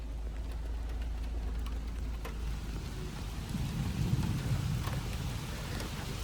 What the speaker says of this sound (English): it's quite raining hard outside.